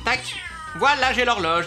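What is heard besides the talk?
cat meowing in a video game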